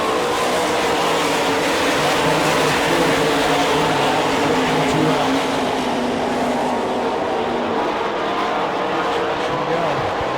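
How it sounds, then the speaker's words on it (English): Sprint race cars at the All Star Circuit of Champions Bauman Memorial in Sarver, Pennsylvania, engines roaring continuously as the pack races around the speedway, loud and dense with no break. "Jared Hall gets out quickly in the 51."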